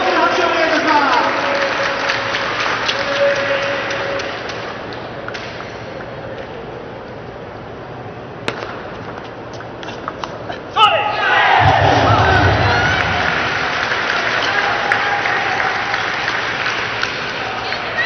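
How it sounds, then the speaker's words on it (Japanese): Spectators at a Japanese T.League table tennis match in Osaka clap and cheer, a crowd roar swelling sharply partway through and continuing loud, with an announcer's voice over the applause early on. "大きな拍手をお願いいたします。"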